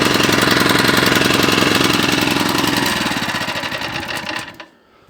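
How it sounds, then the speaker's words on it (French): A four-stroke engine on a garden tiller runs loudly and close, with a fast, rattling, throbbing beat that slows and roughens before cutting out into silence at the end. "Et donc on va essayer de démarrer le motoculteur."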